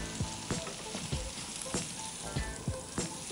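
Something fries in a pan with a dense, continuous sizzle, punctuated by regular soft knocks of a utensil stirring.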